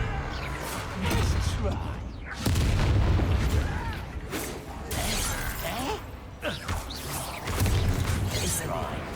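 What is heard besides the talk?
Confringo blasting curse explosion, from video game Hogwarts Legacy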